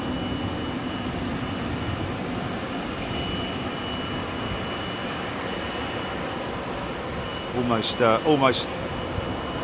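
An airliner departs Heathrow runway 27L with a sustained, distant engine roar that holds steady throughout, while people talk briefly near the end.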